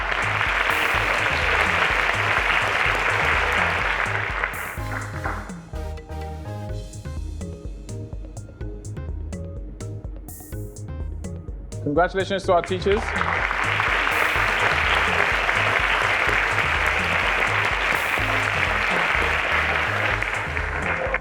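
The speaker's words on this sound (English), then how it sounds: "a round of applause" A studio audience at the Cowbellpedia quiz show applauds teachers in two loud, sustained bursts over a rhythmic music bed. A presenter speaks briefly in the quieter stretch between the bursts.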